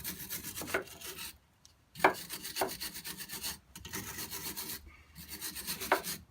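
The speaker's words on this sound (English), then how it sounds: "I like to clean any crud from the threads across here" Close scrubbing of a brush rubbing crud off the threads of a Renault Clio track rod, rasping strokes in repeated bursts with short pauses between them, fairly quiet.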